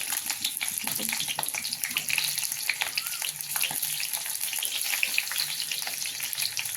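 Stuffed long capsicums fry on a low flame with a steady, close sizzle and crackle. Occasional stirring scrapes break through the sizzle, and almost no talking is heard.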